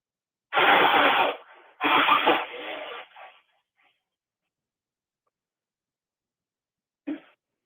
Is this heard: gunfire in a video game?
no